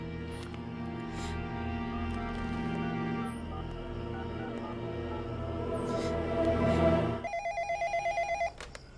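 A telephone bell rings in a rapid run of pulses lasting about a second and a half, loud and close, right after a swell of music.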